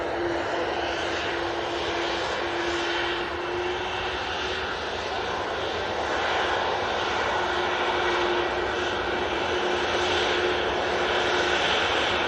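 Airliner jet engines rumble steadily at Manchester Airport, a loud continuous roar with a faint tonal whine throughout, close and unbroken for the whole stretch.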